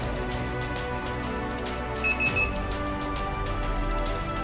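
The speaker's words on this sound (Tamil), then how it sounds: "எனக்கு இந்த பாக்ஸ் இப்போ ஓப்பன் ஆகிடுச்சு அப்படின்னா ஒரு பீப் சவுண்ட் வந்து அலாரம் சவுண்ட் எனக்கு வரும்." A Miracle Box flashing unit, connected while flashing a Redmi Note 5 phone, lets out three quick, high electronic alarm beeps in the middle over a steady low background hum.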